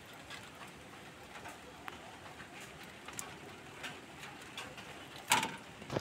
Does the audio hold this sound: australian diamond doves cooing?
yes